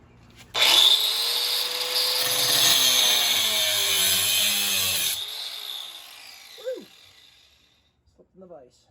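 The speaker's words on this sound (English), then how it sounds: "Going to use our angle grinder here to get the job done." An angle grinder cuts a thin metal bar from an engine stand held in a vise, giving a loud, close, sustained high whine that stops abruptly and is followed by a few scattered knocks.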